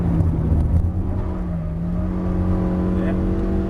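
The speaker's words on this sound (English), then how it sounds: "Then brake hard. Turning hard left." A car braking hard and turning sharply left on a test track, steady engine drone with tire and road noise, a voice talking over it throughout.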